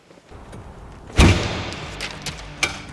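A Jungheinrich combustion forklift's sealed cab door is pulled shut with one loud thud near the start, then a quieter knock and a sharper click as it is pressed closed, close by.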